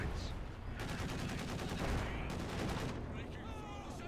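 Panzerschreck rockets fire and strike in a Company of Heroes 2 battle, with dense blasts and rattling gunfire crowding the scene while a commentator talks over the action.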